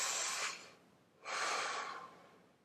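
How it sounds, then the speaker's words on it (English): A deep breath drawn in, then a long exhale, two broad airy breath sounds close to the microphone with a short pause between them and no talking. "Take a deep breath. Exhale."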